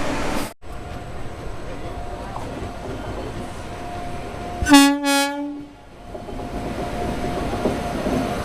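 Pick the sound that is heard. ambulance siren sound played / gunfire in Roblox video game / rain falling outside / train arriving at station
train arriving at station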